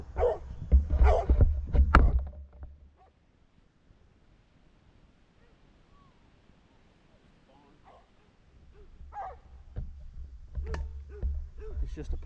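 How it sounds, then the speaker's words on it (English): A dog barks in bursts on a windy hillside farm, loud barking at the start and again near the end with a quiet gap between, while a person talks. "Sorry about the dog barking."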